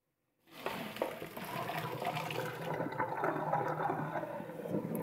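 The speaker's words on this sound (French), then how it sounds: "prendre des maniques et vider l'eau de mes pâtes que je vais réserver pour la suite de la recette." Cooking water from pasta pours out of a Moulinex 12-in-1 multicooker pot in a steady, splashing stream that runs continuously for several seconds, close and fairly quiet.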